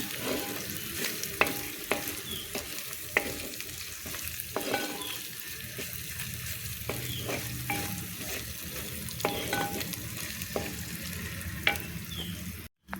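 Ginger paste fries in hot oil in a pan for a fish curry, a continuous close sizzle punctuated by regular scraping and tapping of the stirring spoon against the pan, steady and moderately quiet throughout, with no talking.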